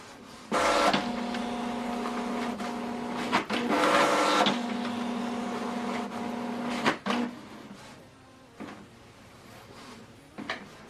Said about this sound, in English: So now it's performing alignment.